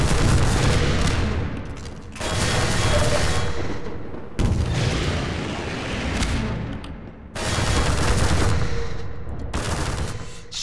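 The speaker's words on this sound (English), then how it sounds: "It's just gonna keep shooting me. Rockets! What a high rate of fire it has." Rapid, heavy gunfire in Half-Life 2: Episode 1 pours at the player in long, loud continuous bursts, each running a few seconds with brief gaps between them.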